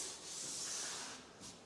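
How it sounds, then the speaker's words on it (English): A hand sander rubs across a gyprock wall in steady, continuous scraping strokes, fairly quiet and close, with a soft hiss throughout and a brief swell near the end. "I bought a hand sander to do some of this stuff with"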